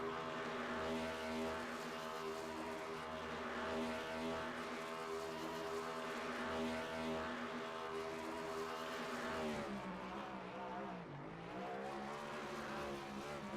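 A race car in the iRacing Cup Series holds a burnout at New Hampshire, its engine roaring at high, sustained revs with a rasping, harmonic drone that sags briefly and then climbs again.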